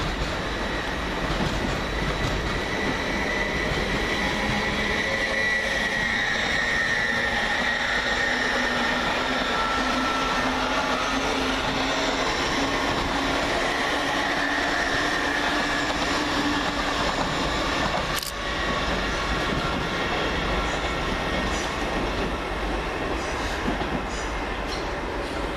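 LNER Class 801 trains pass through Peterborough station with a steady rolling rumble, rising and falling tonal whine and rail clatter, one sharp click cutting through near the end.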